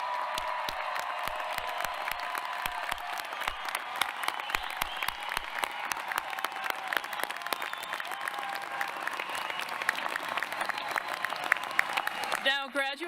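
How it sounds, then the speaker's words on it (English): Family members at a Benerd College diploma and hooding ceremony break into sustained, crowded applause that fills the hall with dense clapping, with voices rising faintly beneath it. "I invite the family members to applaud the completion of your degrees here at Benerd College."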